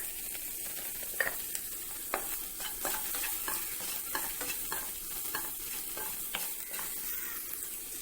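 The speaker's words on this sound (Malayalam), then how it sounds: "ഒന്ന് കുക്കാവണ വരെ ഒന്ന് വഴറ്റി കൊടുക്കാം." Vegetables sautéing in a pan for homemade noodles, a steady soft sizzle under repeated scraping and stirring strokes, close and moderately loud with no talking.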